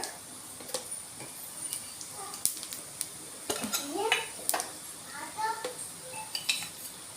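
Tempering spices, cumin and chana dal, go into hot oil for tomato dal, giving a light sizzle with metal clinks and spoon taps against the pan, close by and with some talk.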